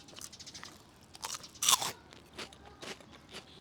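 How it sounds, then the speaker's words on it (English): Crisp, airy spicy cod roe chips being bitten and chewed close up, a string of sharp brittle crunches with one loud bite near the middle and softer crackles around it. "These are spicy cod roe chips."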